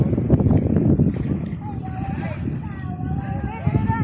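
Wind rumbles and buffets the microphone as people talk outdoors, with a whistling tone drifting in and out.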